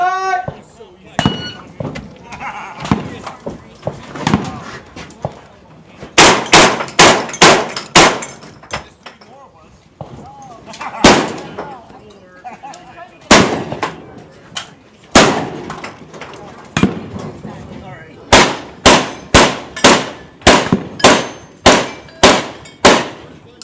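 Shotgun shots ringing off steel targets during stage 1 of a shooting match, a rapid run of sharp loud cracks and metallic clangs, some in quick clusters and some spaced out, with people talking between volleys.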